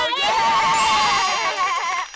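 A human voice imitates a goat's bleat, a continuous wavering nasal call held for about two seconds, loud and close, with no other talk during the call.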